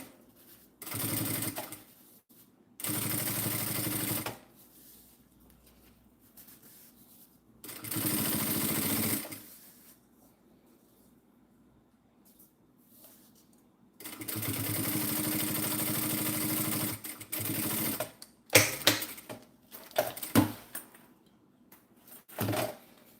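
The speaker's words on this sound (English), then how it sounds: "So I just top stitch over it." A sewing machine top stitching a bag runs in several separate bursts of steady motor whir with a needle clatter, with quiet pauses between runs and a few choppy, uneven stitches toward the end.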